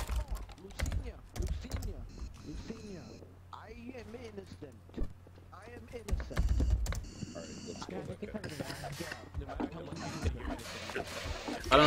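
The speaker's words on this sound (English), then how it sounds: "You type so furiously, dude." Rapid, furious typing on a computer keyboard during an online roleplay game session, clattering in bursts beneath frequent overlapping voices.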